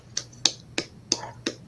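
Five sharp, evenly spaced claps from one person over an unmuted video call, crisp and close with brief gaps between them and no talk.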